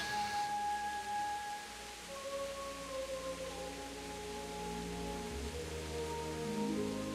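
Rain falls steadily in the medieval game Kingdom Come: Deliverance, a soft, even hiss of drops on muddy ground with faint tonal game sounds drifting through, quiet and without talk.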